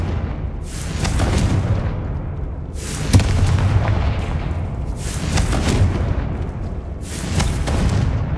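Confringo blasting curse explosions from the video game Hogwarts Legacy boom in four evenly spaced, heavy blasts over a steady low rumble.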